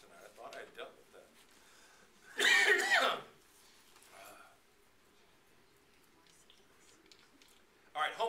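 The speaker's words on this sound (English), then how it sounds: "Sorry about my cough tonight." A sharp burst of coughing mid-clip, close and loud, with quieter breathy sounds before it and another short cough at the end.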